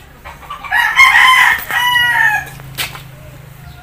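A chicken with a cold being treated gives a loud, strained crowing cluck up close, followed by a few softer clucks and faint rough breathing.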